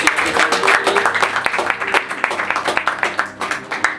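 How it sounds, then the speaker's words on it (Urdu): Loud applause from a crowd at an Iftar prayer gathering in a pastor's home, dense clapping that holds steady and then thins into scattered claps. "آئے ان کے لیے زوردار تالیاں بجائیں گے"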